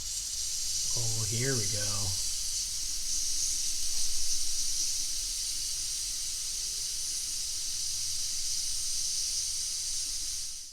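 An air compressor hisses steadily as it fills the differential of a Mercedes W123 during a differential swap. The high, even hiss runs the whole time, with a brief spoken remark near the start.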